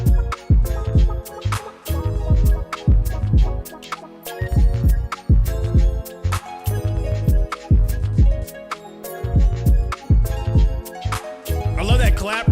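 A played hip-hop style beat with punchy low drums and repeating melodic notes, a clap hitting on the backbeat within a steady groove, with a voice talking over it at times.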